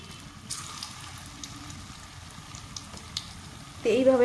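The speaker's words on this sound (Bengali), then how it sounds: "তো সাদা তেল আমি ফ্রাই করে নেব" Kofta balls frying in hot white oil, a soft, steady sizzle running throughout at low level, with a voice briefly starting to speak near the end.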